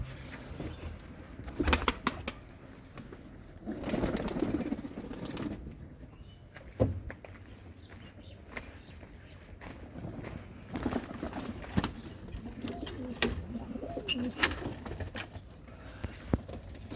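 Pigeons in opened coops, soft cooing mixed with bursts of wing flapping and pattering feet, several close flurries of flapping spread across the span in a quiet outdoor setting.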